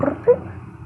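An old cat gives a short, close meow in a quiet room, a single brief call with no talk over it.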